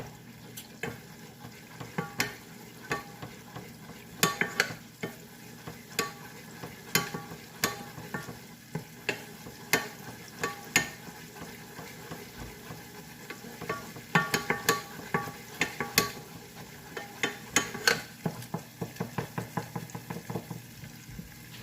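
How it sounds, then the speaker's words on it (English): A spoon stirring spicy chilli dipping sauce in a pot on the heat, irregular scraping clinks and taps over a soft bubbling sizzle, close and moderately loud with no talking. "So I'm just stirring in it."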